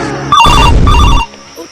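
A mobile phone rings with a loud, brief burst of a bright, tinny electronic ringtone over a noisy background, cutting off after about a second.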